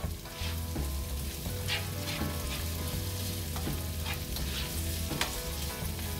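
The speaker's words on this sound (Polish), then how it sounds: "I w chwili obecnej wszystko ze sobą mieszamy." Tomatoes and chorizo sausage frying in a pan, with a steady close sizzle throughout and repeated scraping stir strokes.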